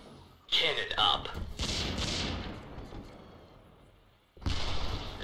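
Artillery unit cannon fire in the Grey Goo strategy game sounds as heavy booming blasts, a loud burst that rumbles and fades over several seconds before another blast hits, with voices talking in between.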